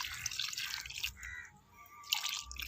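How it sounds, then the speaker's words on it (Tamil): Liquid fertilizer is poured from a jug onto a rose plant, a steady splashing trickle that fades briefly in the middle and then returns strongly, close by with no voices. "இப்போ தண்ணிக்கு பதிலாகவே இந்த ஃபெர்டிலைசரே நான் வந்து கொடுக்குறேன்."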